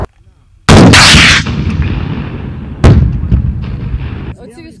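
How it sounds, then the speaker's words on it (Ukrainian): Two heavy, booming grenade launcher shots several seconds apart during border guard training, each a sharp loud blast followed by a long rolling echo; voices are faintly audible. "Оці військовослужбовці стріляють з гранатомета перший раз."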